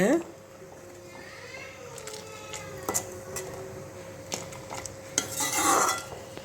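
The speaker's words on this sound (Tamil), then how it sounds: "இப்போ கைவிடாமல் கொஞ்சம் நேரம் கெண்டுவோங்க" A spoon scrapes and stirs a thickening vanilla ice cream mixture in a metal pan on the stove, with repeated clinks and scrapes, louder toward the end, over a faint background voice.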